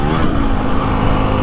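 Motocross motorcycle powering hard out of a corner, a steady loud engine drone with dense rumble and no clear gear changes, running continuously throughout.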